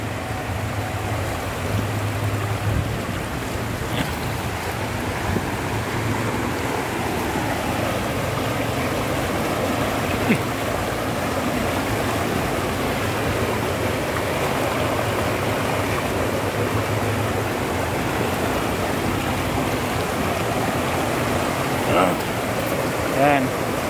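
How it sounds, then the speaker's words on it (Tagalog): Clear mountain water runs steadily downhill in a stream swollen after a typhoon, a constant close rushing flow that holds even throughout, with a voice speaking faintly over it at times. "Yung galing ng Typhoon Auring, ito yung pababa galing bundok na tubig."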